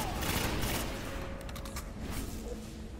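Rapid gunfire from a fast-shooting weapon in a PvP video game, a dense continuous rattle of shots under quiet background noise.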